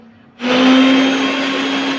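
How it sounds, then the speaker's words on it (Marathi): An electric mixer grinder switches on abruptly after a quiet moment, blending strawberries with sugar, black salt, lemon juice and water. It settles into a loud, steady whirring hum with a sustained motor whine, and no one speaks. "मिक्सरला बारीक फिरून घ्यायचं आहे"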